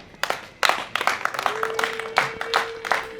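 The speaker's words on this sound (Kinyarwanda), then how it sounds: "Reka nongere nsabe abo twagendanye bakumpera amashyi" Wedding guests applaud during the ceremony, ragged bursts of hand clapping that start sparse, thicken into scattered claps, with a faint steady tone humming underneath.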